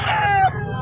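A Hatch grey gamefowl rooster crows at a poultry sale, one drawn-out crow that fades into a busy outdoor background, loud and close, with no talk.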